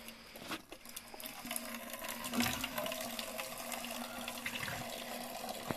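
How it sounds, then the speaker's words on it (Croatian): Water pours and splashes steadily into a container nearby, with a faint mechanical hum underneath and no voices. "Evo sad ćemo nasuti vodu."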